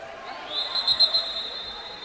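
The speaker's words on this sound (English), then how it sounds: "Referees whistling for the swimmers to head out there" A referee's whistle sounds at the start of a high school water polo game, a sustained high tone running about a second and a half over crowd chatter and speech in a pool setting.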